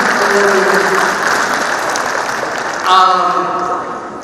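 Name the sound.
audience applause at a forum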